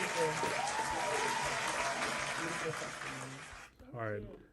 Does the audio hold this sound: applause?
yes